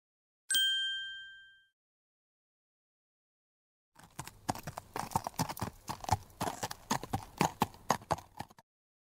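A single bright chime rings out and fades, then after a pause horse hooves clip-clop in a quick, steady rhythm nearby.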